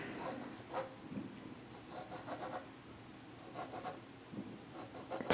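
A pencil draws straight lines on paper, soft scratchy strokes repeating in quick bursts with short gaps, close and quiet.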